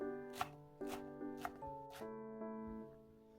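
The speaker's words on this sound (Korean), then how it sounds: "다시 세로로 손가락 굵기 정도 길이로 잘라주세요." A knife slices napa cabbage leaves into strips on a cutting board, four or five crisp, separate chops at a steady pace, faint and close over soft background music.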